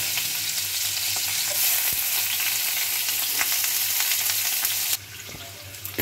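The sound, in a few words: onions frying in oil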